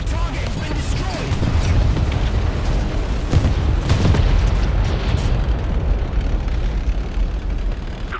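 A destroyed target explodes in the War Thunder combat game, a dense rumbling boom with layered crackling bursts that stays loud and sustained throughout.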